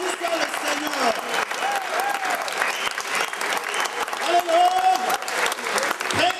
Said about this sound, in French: Si vous êtes toujours là, applaudissez le Seigneur Jésus Tout-Puissant